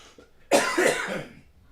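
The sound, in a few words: cough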